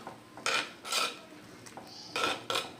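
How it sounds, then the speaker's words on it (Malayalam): A metal spoon scrapes and clinks against a small pot of boiling soya chunk curry in several short strokes, moderately close, with no talking. "ഇളക്കി കൊടുക്കാം"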